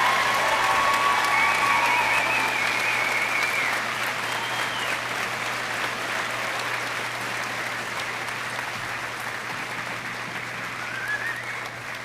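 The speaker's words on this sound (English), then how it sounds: "Let's give a big round of applause to our 2022 graduating seniors." A large crowd at a 2022 high school graduation ceremony gives sustained applause for the graduating seniors, a steady wash of clapping lasting over twelve seconds with faint whistles and cheers on top, slowly easing in loudness.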